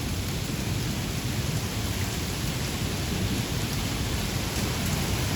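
Heavy rain pours steadily through a severe hometown thunderstorm under a tornado watch, with a constant dense roar and low rumbling thunder woven underneath, loud and close throughout with no voices.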